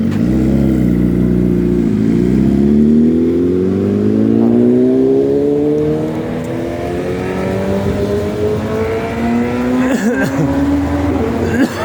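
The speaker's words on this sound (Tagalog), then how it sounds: "Ito yung motor. Tingnan natin yung motor." A loud motorcycle engine revs and climbs steadily in pitch, droning close by with a brief dip and rising again.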